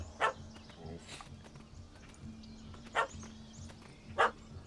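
A dog barking at a cat up a tree in the Witcher 3 game world, three sharp single barks spaced apart over a quiet ambient background.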